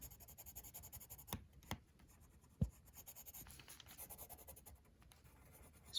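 A gray marker scribbles across Shrinky Dink plastic in quiet, close scratching strokes, with a few sharper taps and squeaks between soft rubbing passes.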